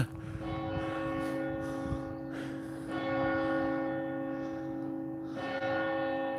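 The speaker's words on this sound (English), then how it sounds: "Nice to hear the bell there, just as I was coming past it there." Peterborough Cathedral's bell rings with a sustained, resonant hum, its tone lingering between strikes, heard from a moderate distance over faint outdoor noise.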